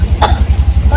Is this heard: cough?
yes